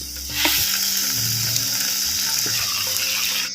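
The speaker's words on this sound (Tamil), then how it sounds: "நல்லா குடமிளகாயை அப்படியே எண்ணெயில் நல்லா வதக்கிக்கிட்டோம்" Capsicum sautés in hot oil, a loud, continuous close sizzle lasting a few seconds with faint stirring, heard alone without talk.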